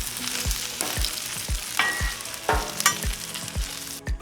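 Frozen tater tots sizzling in butter on a Blackstone griddle, a steady crackling fry with regular low clanks of a spatula turning them roughly every half second.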